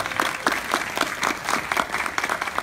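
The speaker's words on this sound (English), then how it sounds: "you need to clap for Rob." A conference audience claps for a presenter, a steady patter of many hands at moderate volume, continuing evenly with no voices over it.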